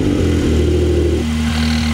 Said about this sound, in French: là vous avez entendu avec la ligne d'échappement T-Cart, hop, vous avez les clapets qui se ferment ou qui s'ouvrent suivant le mode de conduite